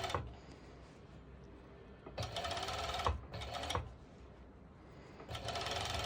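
A serger overlocks the seams of stretchy activewear shorts fabric, running in several steady mechanical bursts of rapid whirring stitches separated by short pauses, close and fairly loud.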